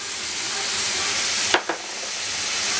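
Diced carrots stir-fry in a hot wok with a loud, continuous hiss and sizzle, broken by one brief scraping toss near the middle.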